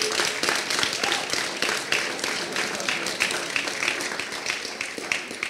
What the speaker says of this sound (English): we all need to give him a round of applause